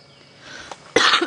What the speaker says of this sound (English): I've developed like a really nasty cough throughout this afternoon